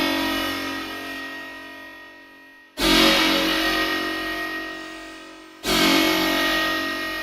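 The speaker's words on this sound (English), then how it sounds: "another cool thing we could do is drown this in reverb" A distorted, washed-out tone swells and fades, drenched in heavy reverb and echoing delay, cutting off and restarting twice.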